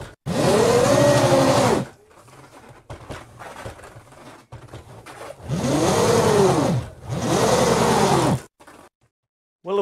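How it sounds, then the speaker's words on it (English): Electric motor of an XXL LEGO go-kart winding up on a slippery floor, three loud bursts of rising and falling whine separated by quieter clattering gaps, ending in near silence. "give the motor a bit of a wind up and see how much torque there is"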